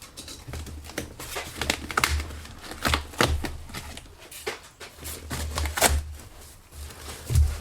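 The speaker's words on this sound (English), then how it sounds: "Cheap little box cutter here because I don't know where my knife is right now" Cheap box cutter slicing open a cardboard box holding Jeep Cherokee XJ fender flares, a series of close, uneven scraping strokes and tape rips with rustling between them.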